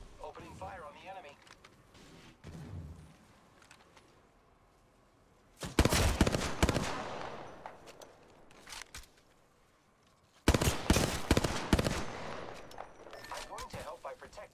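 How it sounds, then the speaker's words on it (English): Bursts of rapid automatic gunfire in Apex Legends ranked play, two loud sustained volleys separated by quieter stretches, with talk over the shooting. "Opening fire on the enemy"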